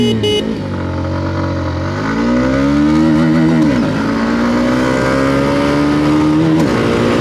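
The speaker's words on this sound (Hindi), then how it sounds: "और चलिए फ्रेंड एक्सेलरेशन टेस्ट स्टार्ट करते हैं। फर्स्ट गियर पे मैंने ऑलरेडी डाल दिया है।" A Hero Xtreme 160R Stealth Edition 2.0 motorcycle pulls away hard in first gear, its engine revving up steadily in a loud, close rising whine with a shift-like dip before climbing again.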